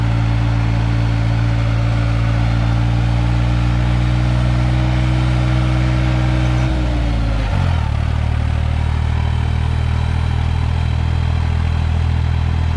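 A Deutz-Fahr F 55 tractor hauling a 5-ton load of soil drones with a loud, close diesel engine that holds a steady low rumble, then drops in pitch and settles into a deeper, continuous chug.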